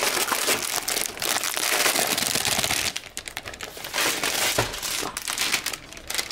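Plastic spoiler foil being crinkled and pushed aside while a puzzle box is unpacked, a close, dense crackling and rustling that runs nearly continuously with brief louder crunches, and a short spoken word.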